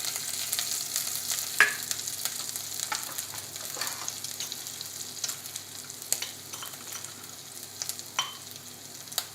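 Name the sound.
ginger and spices sizzling in a pan for dosa batter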